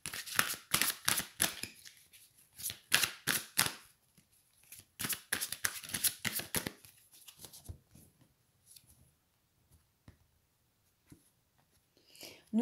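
Oracle cards are shuffled by hand during a card reading, a long run of quick papery riffles and slaps in uneven bursts that thin out into sparse taps and near silence.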